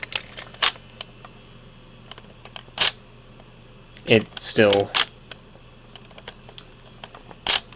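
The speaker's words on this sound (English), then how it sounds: "opens and closes the shutter whenever I flip the power switch" A Sony Handycam CCD-TRV43 Hi8 camcorder's lens shutter, mechanically linked to the power switch, gives several sharp, close mechanical clicks spaced a couple of seconds apart, with someone briefly speaking between them.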